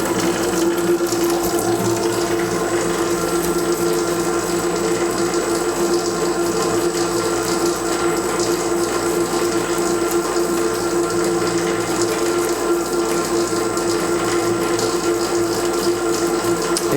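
A stand mixer kneading bread dough for a poolish loaf at increased speed whirs steadily with a constant motor hum and faint mechanical rattle, unbroken throughout with no talk.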